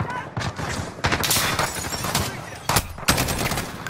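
Dense automatic gunfire from a Modern Warfare campaign battle, with sustained rapid bursts and a few sharper louder shots, loud and close throughout.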